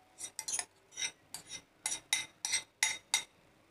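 Soaked poha scooped from a steel vessel into a sieve to drain, with a series of about ten short metallic clinks and scrapes of a spoon against metal, close and fairly crisp, with no talk.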